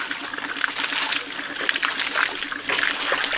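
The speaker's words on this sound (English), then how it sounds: "so it starts fill the water into the pipe now." Water is poured into the pipe of a homemade push-style hand pump, splashing and gurgling continuously with bright splatters and trickles, fairly close and loud.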